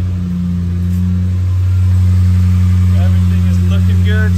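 Toyota 4.7-liter V8 running through a custom exhaust, a deep steady rumble that swells slightly louder midway, close to the listener, with a few faint voices over it near the end.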